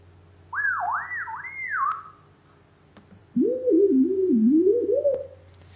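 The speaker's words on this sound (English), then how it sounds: "it just sounds like some sort of slide whistle." Speech formants resynthesized as pure sliding tones, like a slide whistle: a higher wavering glide of three swooping arcs, a pause, then a lower wobbling tone, clear and alone.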